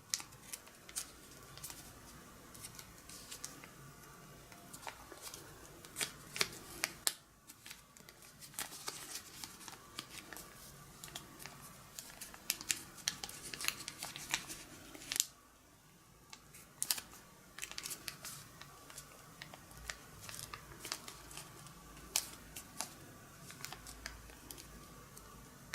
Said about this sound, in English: fold this edge to this center crease